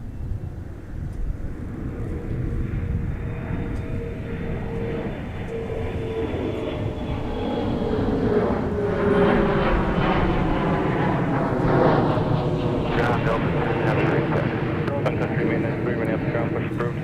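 An Endeavor Air regional jet departing Minneapolis airport in winter, a broad engine roar that swells and stays loud as it climbs out, with voices faintly underneath.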